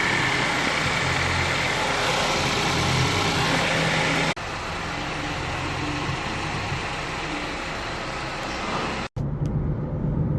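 A Mazda with a 2.3 engine driving on a road test after a timing chain replacement, a steady engine and road drone that drops in level partway through and cuts out briefly near the end.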